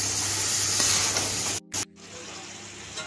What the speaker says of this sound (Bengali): আমি অনবরত নেড়ে চেড়ে মাংসটাকে একটু শ্যালো ফ্রাই করে নেব। গ্যাসটা কিন্তু হাইতে রেখে ভাজতে হবে।